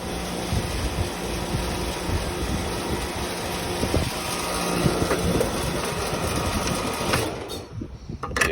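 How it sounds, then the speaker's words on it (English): The failing compressor of a Rheem central AC unit that is not cooling runs with a steady, rough mechanical hum and rattle, loud and close, before cutting off near the end. "Yeah, you got a compressor running there,"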